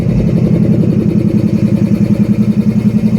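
A loud, deep diesel locomotive engine rumbling steadily with a rapid rhythmic pulse, close by, a faint turbocharger whine riding over the throb, at a rail yard.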